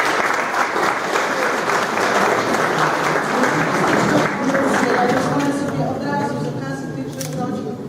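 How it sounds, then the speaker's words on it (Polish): Sustained audience applause fills an art exhibition opening honoring a professor's ninetieth birthday, a dense steady wash of many hands clapping, loud and continuous, thinning slightly near the end with voices mixed in. "I tu ogromne brawa, ogromne brawa."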